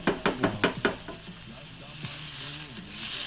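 Food frying in a pan on medium heat, with bacon already cooked, during the making of sweet and spicy tuna tacos; a few sharp utensil knocks at the start give way to a steady, close sizzle.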